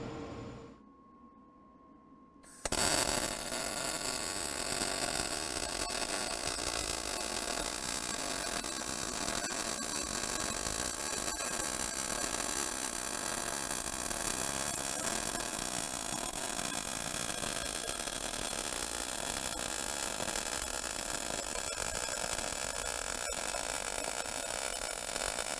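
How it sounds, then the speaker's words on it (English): Continuous MIG welding on 10 gauge steel with a Power MIG 215 MPI: a steady, dense crackling hiss that starts abruptly after a quiet moment and holds evenly for over twenty seconds, close and loud. "that MIG weld came out great"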